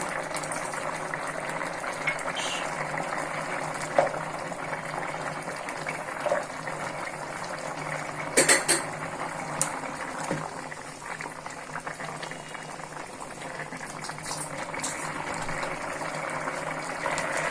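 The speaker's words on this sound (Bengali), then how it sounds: "এখন ঝোলটা আর একটু টানিয়ে নিব।" Fish curry gravy with cauliflower, potato and tomato bubbles steadily as it simmers down in a pot, a constant soft boiling texture with a few light clinks, no talking.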